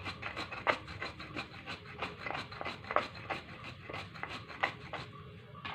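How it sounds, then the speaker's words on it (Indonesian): Garlic and shallots are ground by hand for Sundanese potato perkedel, giving a steady, close scraping and rubbing in rhythmic strokes at a quiet level. "Ini kita haluskan juga bawang putih, bawang merah"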